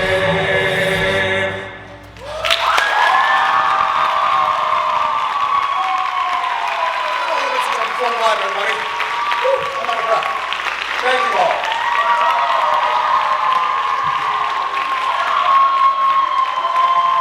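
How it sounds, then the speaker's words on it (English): A college talent show crowd at Mr. Juniata breaks into applause and cheering after a brief lull, with sustained whoops and shouts layered over dense clapping that stays loud to the end while music plays underneath. "let's keep the applause going for that one"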